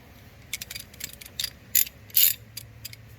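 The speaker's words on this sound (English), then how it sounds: "I'm going to go ahead and put the oil plug back in" An oil drain plug is threaded back into the oil pan of a 2014 Nissan Altima 3.5L, with a close series of quick ratchet clicks in short bursts and brief pauses between them.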